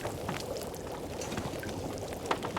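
Water being made in The Long Dark video game, a soft continuous pouring and bubbling wash with a few brief splashy accents, steady and close, with no talk.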